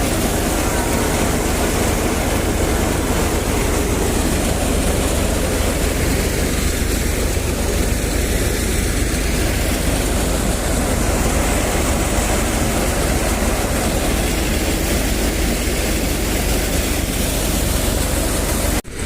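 A tractor engine runs steadily in a field while its trolley is loaded with a harvest of grain and the load is levelled, a loud continuous drone that holds for the full length without pause and fades briefly at the very end.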